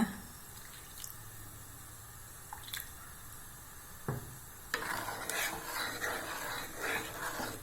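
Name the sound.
liquid boiling in pot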